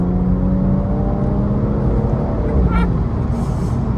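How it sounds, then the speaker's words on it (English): A BMW M135i with the N55 engine pulls loudly and steadily while driving, its droning exhaust note shifting pitch slightly, with a short tonal blip near the end. "I don't know what it is about the N55, but it just sounds so good."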